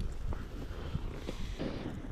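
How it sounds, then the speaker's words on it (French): Strong wind gusting outdoors on the water during a pike fishing outing among lily pads, a steady broadband rush with buffeting on the microphone throughout, no talk. "Le vent venait de se lever à fond."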